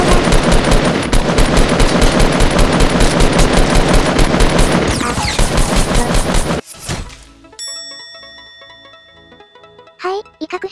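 Fast automatic gunfire in Fortnite, loud and close, pouring out in a long rapid stream of shots before cutting off abruptly into quieter game sounds with a few isolated hits afterward.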